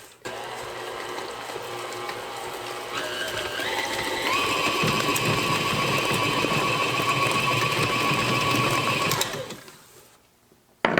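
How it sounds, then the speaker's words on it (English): Electric mixer beating fresh apple cake batter with whole maraschino cherries, a loud steady motor whir that rises in pitch partway through and then winds down and stops, close up. "I don't cut them because the mixer does that for me"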